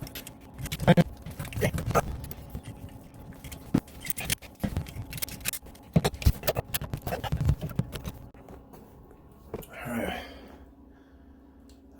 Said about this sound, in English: Literally just pull on it hard enough and it's gonna come right out.